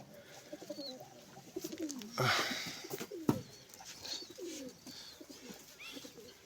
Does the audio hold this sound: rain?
no